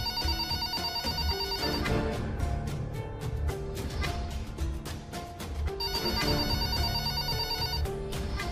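A telephone ringtone plays loudly and continuously as a bright repeating electronic melody over a beat, close up, with no talking over it.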